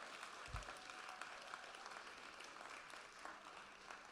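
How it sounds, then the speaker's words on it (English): Audience applauding honorees at an awards event, a continuous, fairly quiet and distant patter of many hands clapping, with one low thump near the start. "Let's give them a round of applause."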